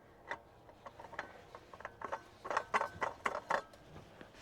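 An oil filter is screwed on by hand on a Fiat Ducato, producing faint, close clicking and ratcheting scrapes in an uneven series that grows a little busier toward the end.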